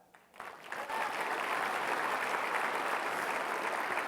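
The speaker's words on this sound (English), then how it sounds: "Clap for that." Keynote audience at the State of Downtown Sacramento event breaks into applause, swelling quickly from a quiet start into sustained, even clapping from a large indoor crowd.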